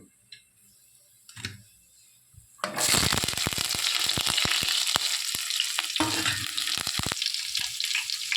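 Mustard seeds drop into hot oil for an egg and potato curry, and a loud, sudden sizzle erupts, packed with sharp popping crackles that continue steadily after a quieter, near-silent start.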